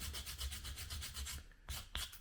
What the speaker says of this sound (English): I'm going to take my sanding block